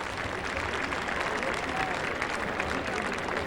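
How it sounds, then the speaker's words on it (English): A crowd applauds in the stands at a high school football game as an injured player is tended on the field, a steady, distant wash of clapping that keeps an even level throughout. "Nice round of applause by the Hoban faithful."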